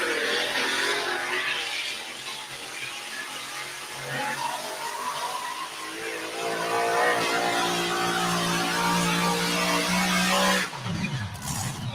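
Twin Chrysler Hemi engines on alcohol power a pulling tractor at a tractor pull, a loud, sustained roar that builds in pitch and strain during the pass before cutting off sharply near the end.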